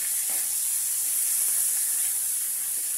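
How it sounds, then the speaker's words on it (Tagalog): Ground meat hits a hot pan and fries with a loud, steady hiss and crackle that stays close and continuous, no voices over it. "Tapos ilalagay na natin ang giniling."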